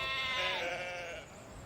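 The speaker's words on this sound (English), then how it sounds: "This site is overrun with sheep." Sheep bleat at a luxury caravan site, a single drawn-out wavering cry that fades over under two seconds, fairly near with a quiet outdoor background.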